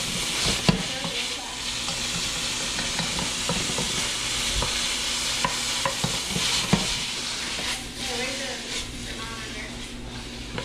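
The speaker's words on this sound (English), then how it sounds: "I like the curry, so we're gonna stir it all in." Spoon stirring curry powder into lightly browned chicken in a hot pan for coconut curry chicken, with continuous sizzling and frying and occasional scraping taps, steady throughout.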